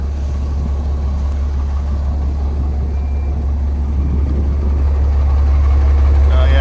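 A Peterbilt 389X truck's diesel engine idles with a loud, continuous low rumble up close, while a voice talks over it.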